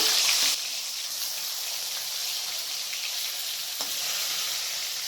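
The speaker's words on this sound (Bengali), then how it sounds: "সরষের তেলটা গরম হয়ে আসার পর আমি মাছগুলোকে ভেজে নেব। মাছের দুপাশটা আমি হালকা করে ভেজে নেব।" Rui fish pieces sizzle in hot mustard oil, a loud burst of spitting at first that settles into a steady, even crackle throughout.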